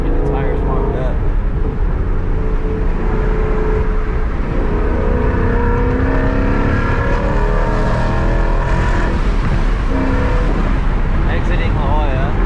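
Ford Mustang GT driving on a slick, wet road, its engine and tire roar loud and continuous throughout, with a person talking over it.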